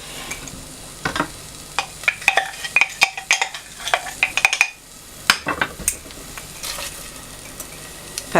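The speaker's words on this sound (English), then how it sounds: "I'm just going to pop them into the pan." Frozen onions fry in a pan for caramelising, with a soft sizzle and sharp clinks and scrapes of a utensil stirring against the pan in uneven bursts, close and fairly quiet.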